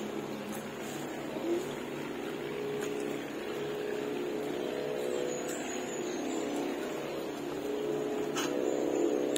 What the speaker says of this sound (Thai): เรียกว่าเสียงเรือเสียงเครื่องบินเสียงตู้เย็นลำคาญนี่เลยค่ะ